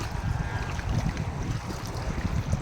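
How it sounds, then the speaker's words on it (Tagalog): Strong water gushes from a solar-powered water pump used for watering crops on a farm, a dense, steady rushing and splashing that stays close and continuous throughout. "Tingnan mo kung gaano kalakas ang tubig namin."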